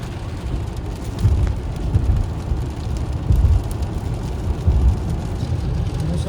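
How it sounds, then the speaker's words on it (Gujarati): Heavy torrential rain falls in Melbourne, heard from inside a car. A loud, dense, continuous roar of rain pulses with low rumbling swells throughout, and no one speaks. "મુસળધાર વરસાદ પડે છે."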